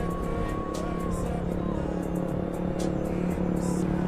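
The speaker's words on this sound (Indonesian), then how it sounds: "masih banyak ya loh yang pakai knalpot racing" A motorcycle with a racing exhaust passes along a street at night near a police station, giving a steady, moderately loud engine drone with faint voices around it.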